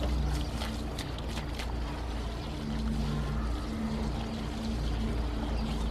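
Water being poured onto a plant, a steady broadband wash of liquid over a constant low hum, continuous and fairly close throughout.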